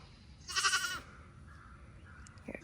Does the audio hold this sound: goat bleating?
yes